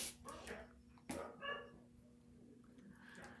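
Dogs bark in short bursts and whimper at barn cats, a little distant, with a steady hum running underneath.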